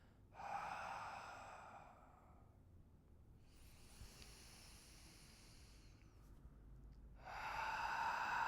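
Soft, breathy exhalations during a ribcage breathing exercise for back pain: two airy breaths separated by a quiet pause, faint and close.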